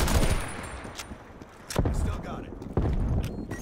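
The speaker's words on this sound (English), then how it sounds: "Got a fucking sniper shooting at me." Sniper rifle shots in Call of Duty Black Ops Cold War ring out as several sharp, loud cracks against a constant background of game noise.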